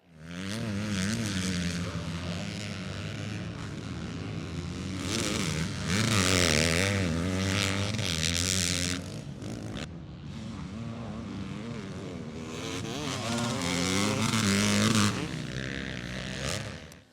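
A 2022 Yamaha YZ250F four-stroke dirt bike fitted with a GYTR kit is ridden hard, its engine revving up and down continuously with rising and falling pitch and a brief dip when shifting, loud and close throughout.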